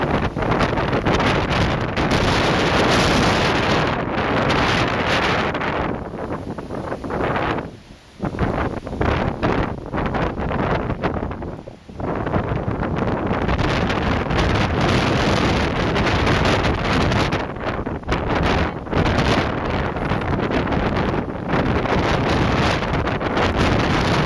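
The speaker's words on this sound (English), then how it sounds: "I don't know if you can hear the wind or not." Strong wind blasts through a backyard with trees during a summer storm, a loud continuous roar with brief lulls and gusting surges, nearby and without talk.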